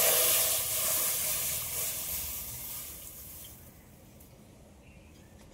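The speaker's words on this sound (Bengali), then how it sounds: "এই দুধটা আমি এবার কড়াইয়ের মধ্যে দিয়ে দেবো।" Cow's milk poured into a hot wok gives a steady sizzling hiss that is loudest at first and gradually fades to a quiet simmer.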